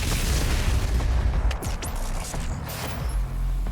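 A huge gun blast in DOOM Eternal, fired on the surface of Mars: a loud, dense booming roar with rumbling low end, followed by sharp metallic whooshing sweeps and a fading mechanical tail.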